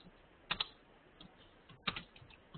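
Keystrokes on a computer keyboard as code is typed, a few sparse clicks with two small bursts of quick taps, close and quiet, with no voices.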